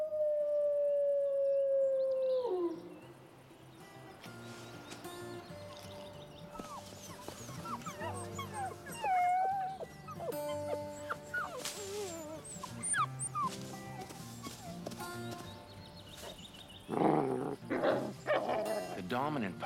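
Wolves, pack adults with young pups, give a long falling howl, then a busy stretch of whimpers, yelps and short growls that ends in a louder burst of snarling scuffle.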